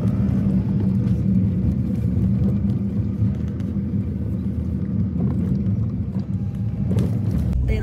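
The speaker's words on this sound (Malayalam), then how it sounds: "ഇപ്പം നമ്മുടെ തൊട്ടിപ്പുറത്തുള്ള ലൈനിലുള്ള വണ്ടികൾ ഇങ്ങനെ പൊക്കോണ്ടിരിക്കുകയാണ്" Cars in the neighbouring lane roll past toward the Stena ferry at the Liverpool terminal, a steady low engine and tyre rumble heard from inside a waiting car, continuous and moderately loud.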